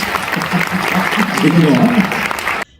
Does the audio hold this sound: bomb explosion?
no